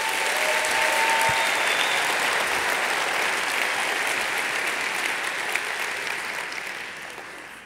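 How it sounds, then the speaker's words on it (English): Audience applause fills a civic State of the City address in Long Beach, a dense, steady clapping from a large crowd that holds strong for most of the stretch before easing slightly toward the end. "Let's give them a round of applause."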